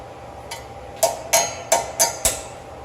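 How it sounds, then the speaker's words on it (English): A hammer strikes a seized brake rotor on a 2014 Nissan Titan about six times in a loose, uneven rhythm. The first tap is faint and the rest are sharp, ringing hits close by. "We'll tap with a hammer, spray some lubricant, and hopefully free it up"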